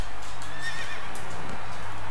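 A horse neighs in the Wii Party game, a bright whinny over a steady low game-music backdrop, with clip-clop-like hoof sounds nearby.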